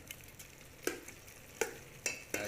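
Eggs and onions frying in a pan and being stirred, with a soft steady sizzle and a few sharp scraping clinks from the utensil at irregular intervals, close up and with no talking.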